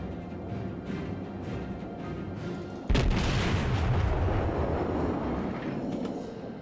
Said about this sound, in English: It was plunging HE fire